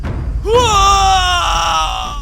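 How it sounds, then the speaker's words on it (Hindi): A man's loud, drawn-out scream rises sharply and then holds at a strained pitch for nearly two seconds against a faint background, in a horror story setting. "कुछ ही देर में ही उसकी जोर की चीख सुनाई दी"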